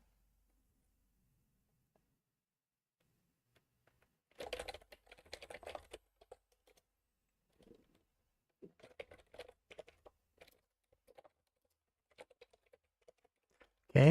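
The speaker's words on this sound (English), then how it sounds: "I'm still typing" Someone types on a computer keyboard in short, irregular bursts of close, crisp key clicks separated by pauses of near silence, with a denser flurry near the start and scattered taps afterward.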